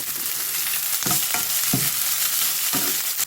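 Chana dal, sliced onion and curry leaves fry in hot oil in a pan, a constant close sizzle broken by several soft scraping stirs, with no one talking.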